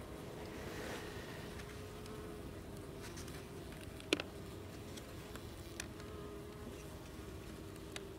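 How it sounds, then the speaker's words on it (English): A single honey bee flies around an opened nuc hive while frames of honey are added, giving a faint, steady buzz over quiet outdoor background with a couple of small clicks. "There's one bee flying around."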